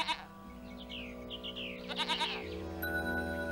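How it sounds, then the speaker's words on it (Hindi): Goats bleating in a pastoral film scene where goats and cows gather around a figure, several wavering bleats in the middle distance over steady music. "गायें और बकरियों ने तो उनकी परिक्रमा करना शुरू कर दिया था।"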